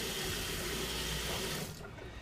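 Water runs steadily from a tap for rinsing after a shave, a continuous close rush that tapers off near the end.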